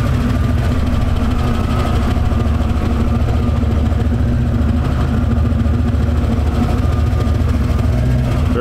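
A 1932 Ford Tudor hot rod with a dual-quad 351 V8 idles steadily up close, a loud, even low rumble that holds throughout without speech.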